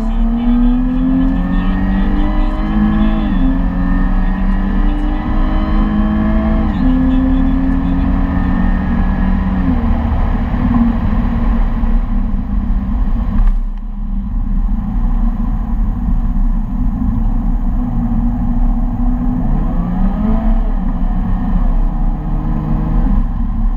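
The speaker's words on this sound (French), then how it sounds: "Jaguar a très très bien joué son coup, c'est qu'ils ont réussi à garder la même sonorité grâce à l'échappement" A Jaguar 2-litre four-cylinder engine revs hard through its exhaust, loud and close, climbing in repeated pulls with gear changes and a brief dip midway before rising again.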